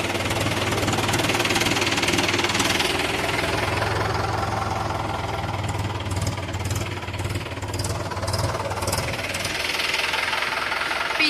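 A tractor engine runs steadily close by with a low, knocking chug that holds through the whole stretch, loud and continuous, while faint voices and outdoor noise sit under it.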